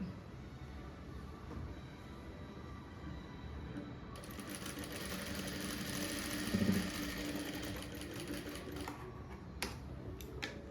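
A sewing machine stitches blouse fabric in a tailoring class, its rapid mechanical whirr rising to a steady run midway, moderately close, with a short pause near the end.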